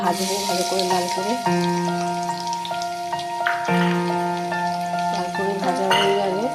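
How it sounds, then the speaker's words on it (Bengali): Onions fry in a pan, a close, steady sizzle and crackle that carries on throughout beneath a prominent tonal musical backing. "পেঁয়াজগুলো ভাজবো ভালো করে"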